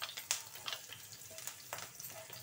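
Green chillies frying in hot oil, a close, steady crackling sizzle with a few sharper pops and spatters over a couple of seconds.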